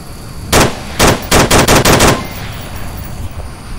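Automatic gunfire in the VR shooter Onward, fired through a bush: several loud close bursts, a single shot then a rapid run of about six shots, followed by quiet background.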